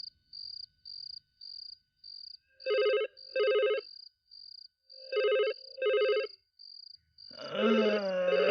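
An old-style telephone at night rings in two pairs of trilling bursts, loud and near, over a steady pulsing chirp of crickets; the rings stop and a voice starts speaking at the end.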